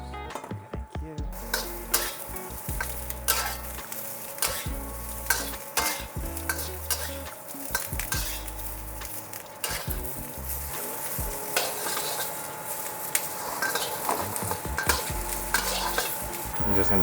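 Peppers stir-fry in a wok with a steady sizzle, broken by repeated sharp clanks and scrapes of a utensil against the metal, some quick and clustered, others spaced apart.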